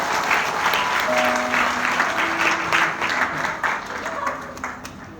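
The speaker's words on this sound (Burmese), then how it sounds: "သူကိုကျေးဇူးတင်စကားပြောဖို့လက်ခုပ်တီးပြီးကြိုဆိုကြရအောင်" An audience applauds to welcome and thank a speaker, a dense wash of clapping from many hands that holds steady and then slowly thins out, with some voices mixed in underneath.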